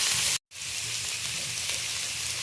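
Onion, tomato and green chili fry in hot oil for a crab dish, with a dense, steady sizzle that cuts out for a split second and then carries on evenly and close.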